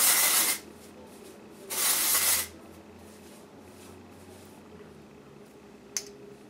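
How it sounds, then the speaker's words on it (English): Instant Fullness dry shampoo sprayed into hair in two short, close hissing bursts, followed by quiet rustling as it is worked through, no talking. "this is the Instant Fullness Dry Shampoo. This is kind of neat. You just put it in here and zhuzh."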